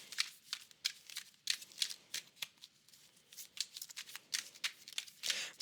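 Tarot cards are shuffled by hand in quick, irregular bursts of crisp riffling and slapping, close and clear with no talking.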